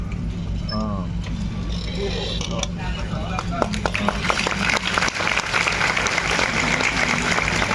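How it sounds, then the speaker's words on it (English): At a college orientation event after an IoT lamp demonstration, voices and hall noise open the passage, then scattered clapping starts midway and builds into steady applause that carries on to the end. "Give them a huge round of applause"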